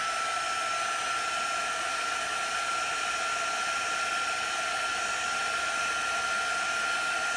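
Hair dryer blowing on chalk paste spread over a canvas craft piece, a loud continuous whirring roar held steady for several seconds with no talking.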